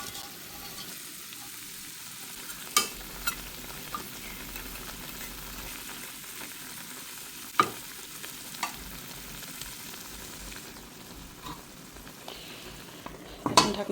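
Curry of bottle gourd leaves with fried koi fish bubbling in a pot, a faint steady simmer broken by occasional sharp clinks and scrapes of utensils, with no speech.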